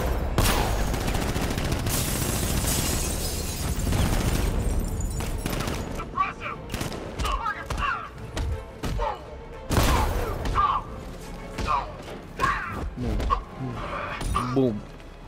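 Gunfire bursts from Batman: Arkham Knight, loud rapid volleys in the first half, then scattered thuds and impacts mixed with exclamations and talk.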